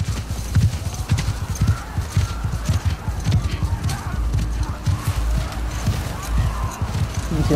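Horse hooves clip-clop in a steady walking rhythm while riding in The Last of Us Part II, close and loud, with occasional game voices in the background.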